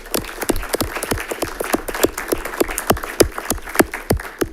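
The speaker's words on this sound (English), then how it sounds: "Let's give him a round of applause." Applause at a school board meeting, a small group clapping with distinct, sharp individual claps in an irregular, lively rhythm, close and fairly loud, with no talk over it.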